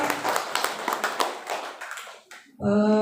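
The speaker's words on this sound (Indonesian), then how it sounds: "Minta tolong beri tepuk tangan dulu yang meriah Bapak Ibu ya." Audience of teachers clapping at a training session, a lively patter of hands that fades out over about two seconds before a loud tonal sound cuts in at the end.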